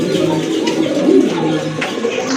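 Pigeons of a homing breed cooing close by, layered soft throaty coos rolling continuously with faint background chatter and rustling.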